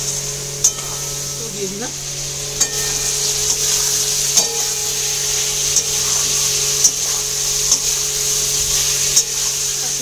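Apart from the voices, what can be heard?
cauliflower being sautéed with spice masala in a pan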